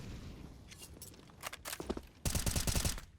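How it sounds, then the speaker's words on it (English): AK rifle fire in a Counter-Strike match, with faint scattered shots and footsteps before a dense, loud burst of automatic gunfire near the end. "Woxic with the AK saying hello"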